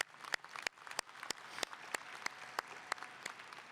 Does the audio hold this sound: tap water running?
no